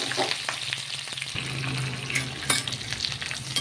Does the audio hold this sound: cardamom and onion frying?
yes